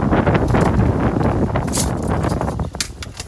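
Gusting wind on board a Chaparral 347 SSX boat roars steadily against the microphone as a loud, broadband rush that eases slightly toward the end, with no talk.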